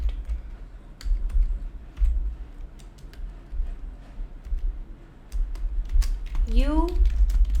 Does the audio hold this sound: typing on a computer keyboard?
yes